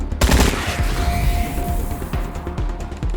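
Wasteland 3 game gunfire bursts out as a sharp, loud volley of rapid shots with an impact crash, then fades into a short rumbling tail.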